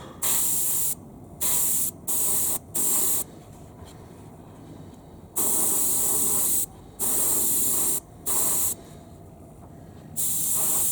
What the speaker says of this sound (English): So spraying these, less is more